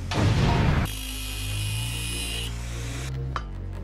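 A short iron bar being cut for a weld-free awning build: a loud rough burst, then a steady high-pitched grinding tone for a couple of seconds before it winds down, with a small knock near the end.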